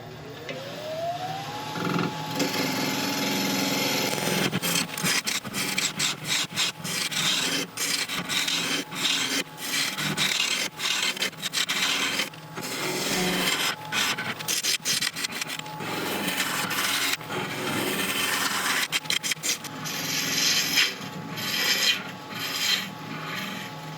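A Record Power half-inch bowl gouge turning a wood and resin lamp base on a lathe running at about 1300 RPM, a close, continuous rasping cut with a rising motor whine at the start and frequent brief breaks.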